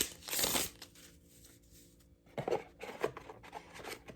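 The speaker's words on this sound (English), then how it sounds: "they shuffle the cards this way also" Magic: The Gathering cards being shuffled: a brief rustling riffle near the start, then a pause and a further series of quick papery flicks and snaps, faint and close, with no voices.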